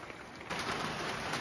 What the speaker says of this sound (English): Rainy day today.